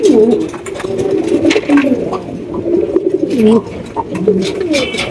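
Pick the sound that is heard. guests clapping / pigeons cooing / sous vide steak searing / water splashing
pigeons cooing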